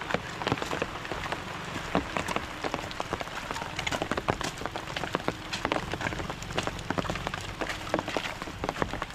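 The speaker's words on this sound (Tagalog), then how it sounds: "Tapos yan na naman yung ulan." Rain falls in a dense, steady patter, with sharp individual drops striking a surface throughout and no talking.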